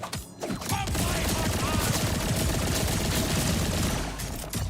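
Rapid gunfire in Borderlands 4, with cursed kinetic status-effect hits, a dense, continuous burst of shots sustained over several seconds and punctuated by a few sharper individual cracks.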